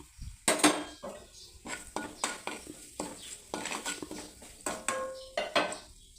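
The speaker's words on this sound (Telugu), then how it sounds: "ఈ బురుగులు కూడా వేసి బాగా కలిపెట్టాలి" A spoon scrapes and knocks around a pan as a garlic snack is stirred with oil, curry leaves, chili powder, salt and turmeric, producing a steady series of close, moderately quiet scraping strokes.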